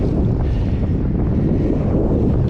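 Steady wind roars across the microphone during an outdoor bike ride on a trail, a constant low buffeting rush that fills the whole stretch with no other sounds standing out.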